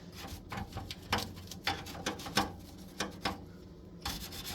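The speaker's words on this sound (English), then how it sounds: "Some of the spots you just have to scrub." A brush scrubs grime off the grooves of a mini split air conditioner during cleaning, giving close, rough rubbing strokes in short repeated bursts with a steady background hiss.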